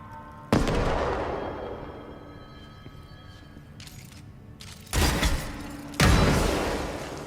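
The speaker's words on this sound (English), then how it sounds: "Press RT to detonate that grenade" Adhesive grenades detonate in the video game Control with sharp, loud blasts. One opens the clip and rolls off into a long rumbling decay, and two more powerful explosions follow close together near the end.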